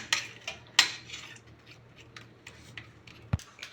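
Banana mashed in a bowl gives scattered scraping and clinking utensil taps. The sounds are irregular and sometimes sharp, close to the listener, and no one speaks.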